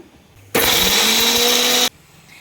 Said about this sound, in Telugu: ఇలా వేసుకొని దీన్ని మెత్తగా మిక్సీ పట్టేద్దాం